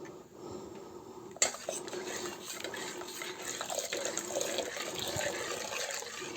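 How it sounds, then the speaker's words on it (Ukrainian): Starch slurry stirred and poured into a pot of simmering fruit compote in a home kitchen, with clinks of a utensil against the pot and a steady liquid pouring sound throughout. "І перемішуючи, вливаємо у наш компот."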